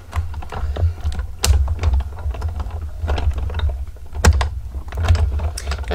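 A Sizzix die cutting machine runs paper through its rollers, giving a steady low mechanical rumble with dense, irregular clicks and ticks on top. It sounds close and fairly loud, with no voices.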